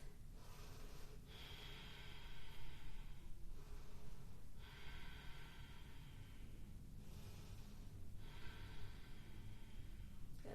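Slow, deep breaths are drawn in and pushed out through the nose while someone holds a yoga pose. About three long, steady cycles repeat at a calm, even pace, close and fairly quiet.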